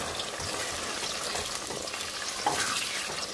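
Tomato paste sizzling and frying in a pot: a steady, faint hiss and crackle of spattering, continuous throughout with a small pop near the end and no voices.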